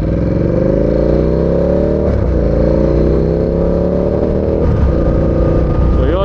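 A Ducati Diavel 1260 motorcycle is ridden briefly, its engine a loud close drone that climbs in pitch through two gear pulls, with brief drops at each shift.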